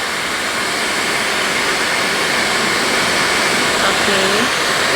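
A Laifen Swift high-speed hair dryer runs on its low setting, giving a loud, steady, breathy whoosh of airflow with a faint high whine. It is constant from start to finish without pauses.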